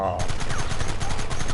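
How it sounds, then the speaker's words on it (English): Rapid machine gun fire rattles loudly and continuously in a PS4 video game, a dense string of close bursts with no gaps, under faint background voices. "Look, they brought the machine gun!"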